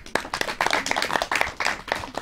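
A studio audience on a Pakistani children's TV show claps for a couple of seconds, a dense, steady patter of many hands nearby with no voices.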